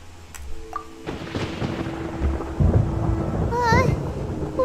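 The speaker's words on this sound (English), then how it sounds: "Paimon hears thunder!" Thunder rumbles in Genshin Impact, building from quieter game tones into a louder low rumble with rain-like hiss, joined by brief chiming effects near the end.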